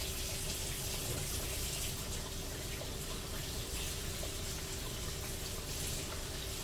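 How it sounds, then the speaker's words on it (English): Tap water runs steadily into a sink while hands are washed beneath it, a constant close splashing hiss with no talking, in a home kitchen while grandma's fried chicken is being prepared. "I wash my hands."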